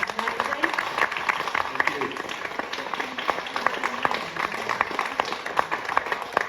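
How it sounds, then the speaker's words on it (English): An audience at a Wigan Casino Northern Soul panel event claps steadily in dense, continuous applause, with voices mixed in underneath throughout. "can I please round of applause?"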